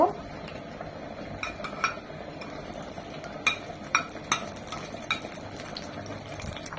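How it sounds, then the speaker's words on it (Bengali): Dried red chillies heat in a spoonful of mustard oil with a faint steady sizzle, while a spoon repeatedly taps and scrapes the pan in scattered light metallic clinks; beef is cooking nearby. "1 চামচ সরষের তেল আর 3টি শুকনো মরিচ দিয়ে খুব ভালোভাবে গরম করে নেব।"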